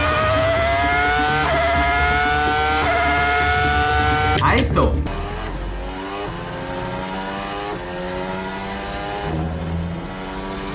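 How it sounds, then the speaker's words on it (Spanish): Formula 1 race cars pass loudly, first an old V10 engine screaming at high revs with a sharp pass-by sweep, then a deeper modern engine droning, while a voice speaks over the engines. "Seguramente este sonido tan característico del V10 te traiga recuerdos de la Fórmula 1 antigua"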